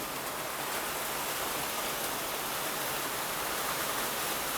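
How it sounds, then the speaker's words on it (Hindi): Heavy rain falling on a village in Darjeeling: a steady, dense hiss of downpour that holds evenly throughout with no breaks and no voices. "यहाँ पे तो इतनी ज़्यादा बारिश हो रही है"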